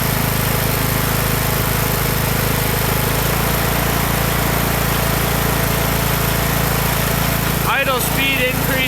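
Lawn tractor engine converted to ethanol, idling with the choke fully on, a steady loud drone under a person talking, with a brief rise near the end.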